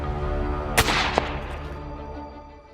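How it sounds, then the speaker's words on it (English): Gunfire during a culling of invasive monkeys in Florida: two sharp shots, a louder crack followed moments later by a second, each ringing briefly over a steady hum that fades toward the end. "The sound of gunfire"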